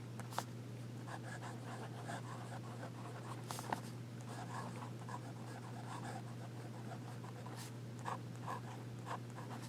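A Visconti Blue Lagoon fountain pen's nib scratches faintly across paper in short, soft strokes, close but very quiet over a low steady hum.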